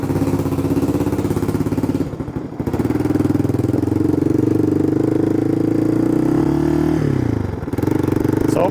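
A $450 three-wheeler's motorcycle-type engine starts and runs steadily near the microphone, idling with a rough, clattering putter and a few brief dips and surges in revs.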